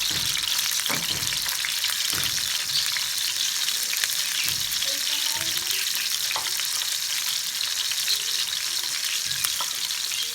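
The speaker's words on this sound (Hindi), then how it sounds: "तो ये देखें जी, इसको हम फ्राई कर लेते हैं इस तरीके से।" Marinated chicken for Balochi sajji frying in oil, a loud, continuous crackling sizzle with occasional stirring knocks throughout.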